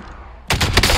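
Loud, rapid gunfire in a Warzone battle-royale match bursts in after a quiet moment, a dense close-range volley of overlapping shots with no talking.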